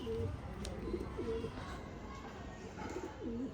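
A male Kala regdar pigeon coos in a few soft, rounded bursts close by, against a light background hum.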